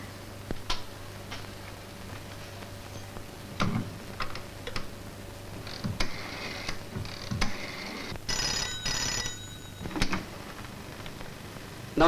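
A telephone rings while a call is placed, a short burst of ringing partway through among faint clicks and quiet room noise, with no one speaking.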